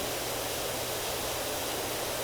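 A pressure washer's water jet sprays continuously in Power Wash Simulator, giving a steady, even hiss of broadband noise with no talking over it.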